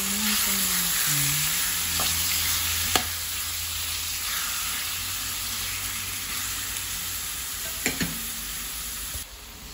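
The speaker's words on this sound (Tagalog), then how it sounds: "Haluin lang po natin." Chicken afritada stirred as it fries in a pan, giving a steady broad sizzle with a few sharper utensil scrapes and clicks, close and moderately loud, with no talking.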